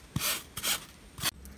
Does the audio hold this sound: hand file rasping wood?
yes